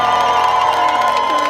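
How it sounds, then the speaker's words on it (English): A crowd cheers and shouts for Ronan Pearson's first BTCC race win, a brief, loud burst of massed voices with a tonal wail running through it. "A huge cheer for Ronan. Absolutely delighted the crowd are."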